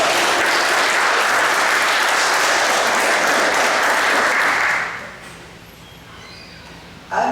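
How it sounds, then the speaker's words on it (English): Audience applause at a Florida Emancipation Day gala: a dense, loud wash of clapping holds steady for about five seconds, then fades to a quiet room murmur before a brief sound at the end. "Clap, give yourself a hand."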